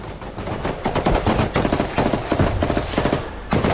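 Sustained machine gun fire in close combat during a frontline assault in the Toretsk and Pokrovsk area, rapid bursts of loud, dense shots rattling continuously for several seconds with overlapping reports and no pauses in the shooting.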